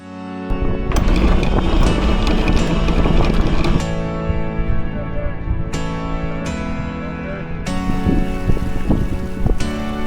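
Wind blowing steadily over a sailboat at sea, a loud close rushing roar with gusts, mixed with creaks and knocks from the boat.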